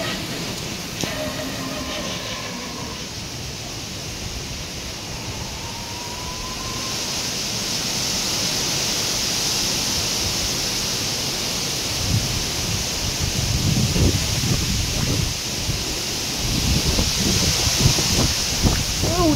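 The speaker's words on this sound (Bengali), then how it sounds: "ও হাওয়ার কি আওয়াজ!" Strong wind blowing before a storm, a steady broadband roar that builds and gusts louder toward the end, continuous and enveloping with no voices.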